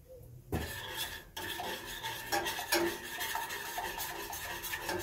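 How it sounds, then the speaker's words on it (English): Apple syrup and balsamic vinegar whisked together in a pan, with a busy scraping and clinking of metal against the pan after a brief quiet start, continuing in an uneven rhythm. "I'm going to give that a whisk"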